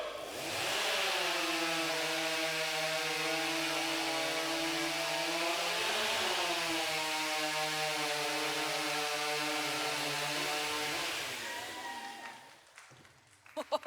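Two STIHL stock chainsaws scream through timber in a 2021 Canadian championship timber-sports race, a loud sustained high-pitched whine that holds steady for about eleven seconds before cutting out abruptly, leaving a few faint knocks.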